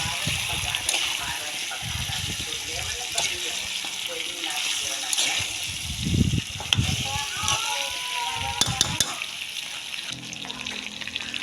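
Vinegar being stirred into chicken feet adobo in a pot, with sizzling, bubbling liquid and scraping, clinking spoon strokes throughout, while a person talks over the cooking.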